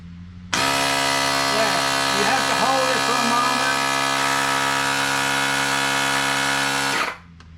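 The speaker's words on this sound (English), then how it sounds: "I'm gonna hit it so that you can hear the pump going" A car jump starter's built-in tire air pump switches on abruptly and runs as a loud, steady, buzzing mechanical drone for about six and a half seconds, then cuts off.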